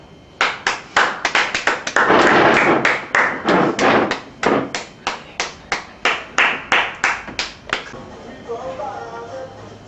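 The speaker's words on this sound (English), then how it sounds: "Let's all give a round of applause for our leader, the man of steel, Stalin." Rhythmic, evenly spaced clapping for Stalin, as if from a small group or single person, loud and close, with a brief dense flurry early on before settling into steady separate claps that fade at the end.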